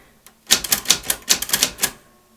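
Keys striking on a We Are Memory Keepers typewriter, a quick burst of about a dozen crisp mechanical clacks in uneven rhythm, close and loud against near silence.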